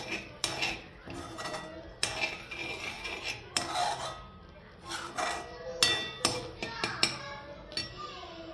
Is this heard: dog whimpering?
no